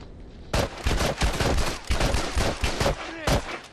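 Rapid gunfire in The Last of Us multiplayer rattles in dense bursts of close shots, loud and sharp with brief gaps between volleys.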